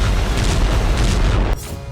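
Heavy explosions from Russian bombing strike a Ukrainian city, a deep, loud rumbling boom that rolls on for over a second before cutting off abruptly.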